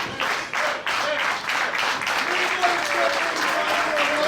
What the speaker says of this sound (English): And the crowd is very much behind Renee Michelle